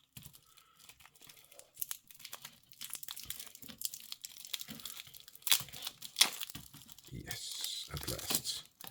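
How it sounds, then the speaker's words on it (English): Protective stickers peeled off a titanium bracelet on a Christopher Ward Twelve Ti Fjord Blue watch, close crinkling and tearing plastic in scattered bursts, with someone talking in between. "Let's take the stickers off."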